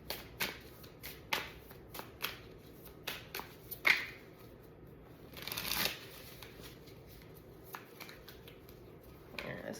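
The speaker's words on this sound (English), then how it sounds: "Yeah, let's get a few shuffles." A deck of tarot cards is shuffled by hand, close up, in repeated quick riffling bursts and soft flicks separated by short pauses, with no talking.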